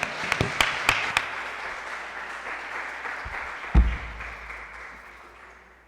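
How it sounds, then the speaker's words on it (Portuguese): Church congregation clapping in praise during a live worship service, a steady spread of applause that starts with a few sharp, close claps and fades gradually, with a soft thump near the middle. "As palmas louvam ao Senhor"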